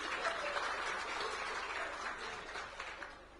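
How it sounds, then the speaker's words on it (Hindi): Loud, dense applause from an audience at a political dialogue event, honouring Pathak ji, a steady wash of clapping that fills the whole stretch and tapers slightly at the end, with no clear voice over it. "जोरदार तालियां पाठक जी के लिए"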